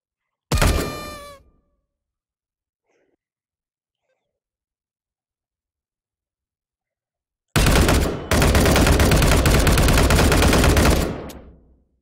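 Suppressed gunfire in the H3VR virtual reality shooting game: a single sharp report, a long silence, then another shot followed by a sustained loud rapid burst of fire lasting several seconds.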